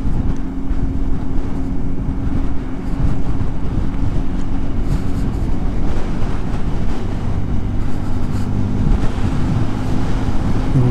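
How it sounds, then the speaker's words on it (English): Strong wind buffets a helmet microphone continuously while riding a 125cc motorcycle, a loud rumbling roar with no pauses and no voices. "Oh, it's very windy."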